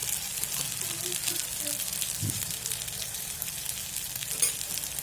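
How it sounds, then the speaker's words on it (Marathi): Freshly ground masala paste fries in hot oil after cumin, giving a steady close sizzle and hiss, with faint background murmuring underneath. "जो आपण ग्राइंड केलेला मसाला आहे तो मिक्सरनं तेलामध्ये सोडायचा"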